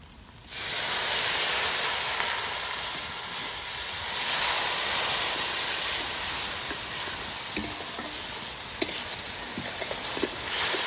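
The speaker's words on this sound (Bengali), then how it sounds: "বন্ধুরা এবার একটু জল দিতে হবে, নাহলে কিন্তু পুড়িয়ে যাবে" Water hits hot cumin and coriander powder in a wok and bursts into a loud sizzling hiss of steam that holds steady for several seconds, easing slightly, with a few faint clinks near the end.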